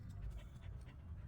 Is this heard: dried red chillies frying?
no